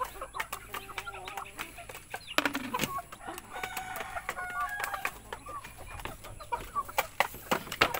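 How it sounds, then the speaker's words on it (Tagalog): Two chickens in a backyard pen clucking close by, with busy overlapping clucks and squawks and a brief louder outburst partway through, against a steady background hum. "So yun lang ang manok natin dito."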